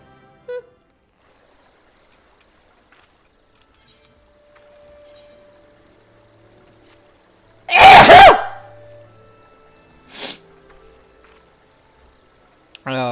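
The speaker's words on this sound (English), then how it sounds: "I just had a sneeze" A single sharp, loud sneeze bursts out near the middle of an otherwise quiet stretch, followed by a faint clink and a short breathy sound, with a voice starting up at the very end.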